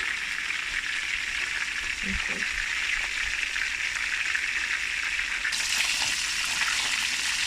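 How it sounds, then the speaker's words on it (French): Fish browning in a pot alongside carrots and onion, cooked for jollof rice, gives off a steady, even frying hiss that sits close and continuous, with a few faint low knocks partway through. "On va attendre que le poisson puisse dorer."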